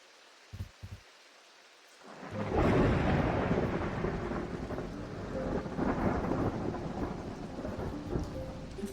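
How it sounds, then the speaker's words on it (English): Thunder rolls in from a game world in Strange Antiquities after a brief quiet, followed by a steady heavy rush of rain and rumbling that carries on loud and unbroken with no voices. "The thunder sounds good in this game."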